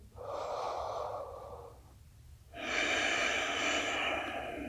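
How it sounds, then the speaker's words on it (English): Slow, deep breaths drawn in and pushed out during a Hanumanasana yoga pose, close and steady, each long airy inhale and exhale heard plainly against quiet background. "Take a few more deep breaths here."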